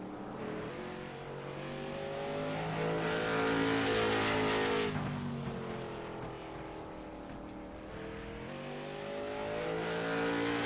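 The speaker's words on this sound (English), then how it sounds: "He is currently the only car on track." Race car engine droning steadily through a racing video game session on a track, with a lone car circuiting, loud and continuous with rising and falling pitch as it accelerates and shifts, no talk over it.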